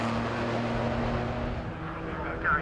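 A Porsche race car in a club championship race roars along the track with a steady engine drone, its pitch holding and then briefly rising near the end, heard at moderate distance.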